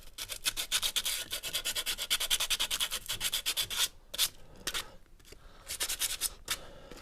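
The clutch pads of a Royal Alloy GP300 scooter are roughed up with abrasive, giving a close, rapid run of rhythmic scratchy sanding strokes, pausing briefly before resuming in shorter bursts.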